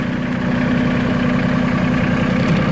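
LS XG3025 compact tractor engine running at a loud, steady idle close by, its even low diesel rumble continuing without change and no one speaking.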